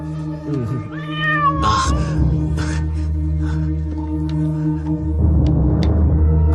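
A cat meows and caterwauls in several drawn-out, wavering cries up close and loud, over a steady low hum and background sound.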